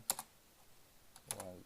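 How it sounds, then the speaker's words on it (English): A few quick keystrokes on a computer keyboard, close and fairly quiet, in two short bursts separated by a pause while vertex coordinates are entered. "Then we begin to type in vertex V1"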